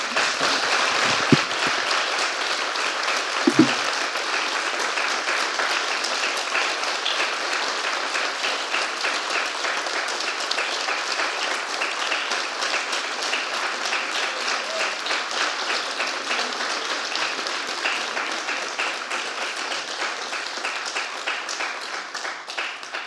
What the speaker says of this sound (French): j'aimerais bien quand même qu'on vous applaudisse, parce que c'était super.